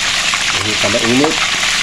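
Pork chop frying in hot oil in a pan, a loud, close, continuous sizzle and crackle, with a voice speaking briefly over it.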